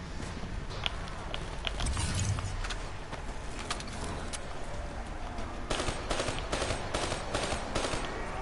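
Sustained automatic gunfire from a low-recoil weapon in a video game, steady rapid shots rattling continuously at moderate loudness with slight breaks, other faint game noises underneath.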